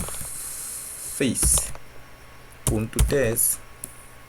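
Keys tapped on a computer keyboard while entering a tsc terminal command, a few quick clicks in short bursts under someone speaking.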